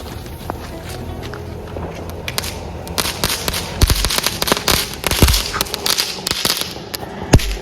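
A long string of Chinese firecrackers, the wedding kind, bursts at night during a family Diwali celebration, a rapid irregular crackle of sharp pops with a few louder bangs, close and dense throughout.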